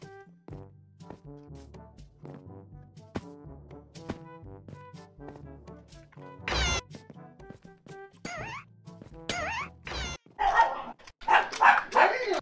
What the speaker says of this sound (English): if you hear a dog out there